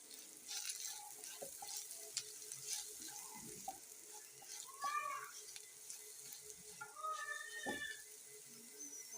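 Potatoes being stirred in a pan with salt and whole cumin seeds, soft intermittent sizzling and scraping of a utensil, quiet and close, with a few faint clinks and a brief voice in the background.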